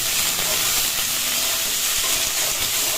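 Cut cabbage frying in hot oil with cumin and bay leaf, giving a steady, even sizzle and hiss that runs close and unbroken with no talk.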